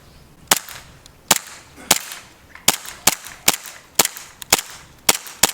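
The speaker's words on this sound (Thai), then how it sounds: "เราจะมาเริ่มยิงกระสุนนัดแรกค่ะ ไปที่แตงโมระยะทางนะคะ ประมาณ 5-6 เมตร" A BB pistol fires about ten sharp, loud shots in a steady rhythm at a watermelon some 5 to 6 metres away, each crack standing alone with no talking.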